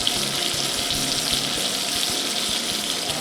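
Thick steaks, about 1.25 inches, searing on a hot 400-degree grill, a constant close hiss and sizzle with a few faint low knocks underneath, no voices.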